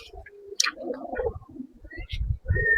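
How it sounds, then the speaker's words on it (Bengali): Pigeons cooing in a Bengali pigeon loft, soft repeated low coos with a few brief higher chirps, close by and fairly steady, no talking. "এই যে আমাদের ছোট ভাই তানভীর টিএচ পিজন লফট, ও কিছু কবুতর আপনাদের দেখাবে।"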